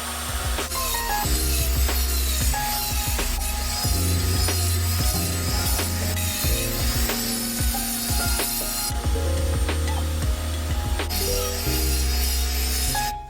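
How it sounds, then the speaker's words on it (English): A trimmer cuts across a handmade rug in a steady, whirring mechanical drone, with repeated rasping and clicking pulses as it works over the pile. "for the smaller rugs, we use this trimmer instead"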